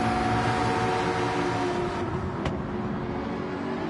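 Porsche race car in GT7 at Brands Hatch, a steady loud engine drone holding throughout, with one brief sharp tick near the middle and no talk.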